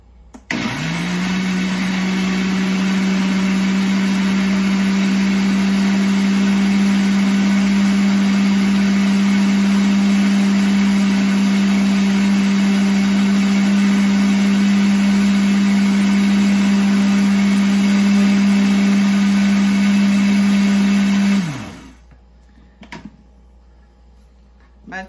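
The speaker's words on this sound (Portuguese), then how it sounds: "Aí a gente vai colocar todos esses ingredientes no copo do liquidificador" A kitchen blender whirs steadily for about twenty seconds, mixing cornmeal cake batter, loud and continuous with a strong motor hum, then it shuts off abruptly into near quiet.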